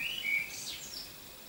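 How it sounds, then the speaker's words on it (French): Small birds chirp through an open window in the countryside, a few brief high tweets up close at first, then fading into quiet background air. "La fenêtre est ouverte, peut-être que vous entendrez les petits oiseaux"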